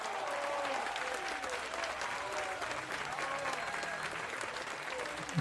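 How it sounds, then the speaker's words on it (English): Crowd applause and cheering from the baseball video game OOTP 27, a dense, continuous wash of clapping with scattered whistles and shouts, steady and loud from start to finish. "Let's give us our first cheer for double gold."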